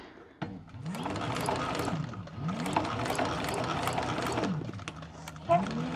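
A sewing machine stitches the front of a handbag in rapid mechanical bursts, each run revving up and winding down with a rhythmic whirring clatter, separated by short pauses and a sharp click.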